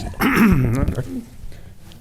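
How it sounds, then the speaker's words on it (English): A single rough, gravelly throat clearing at a school board meeting, loud and close, lasting about a second before fading into quiet room noise. "clearing my throat"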